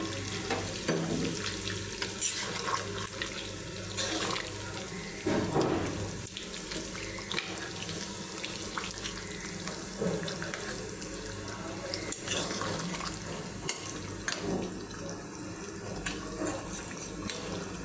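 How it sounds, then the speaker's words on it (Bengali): Beef bhuna being stirred in a pan, with a steady wet sizzle and scraping from the spoon alongside running water, with occasional louder clatters. "এটাই এখন নেড়ে দেব। মাংসটা সিদ্ধ হয়ে গেছে।"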